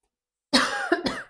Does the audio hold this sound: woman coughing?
yes